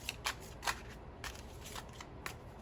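Tarot cards are shuffled and cut by hand for a reading, with soft papery riffles and sharp snaps repeating in irregular bursts, quiet and close, with no one speaking.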